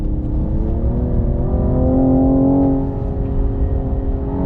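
A 2021 Cadillac CT5-V engine drones steadily, its pitch rising in a brief rev blip during a braking downshift midway before settling back, heard from inside the cabin.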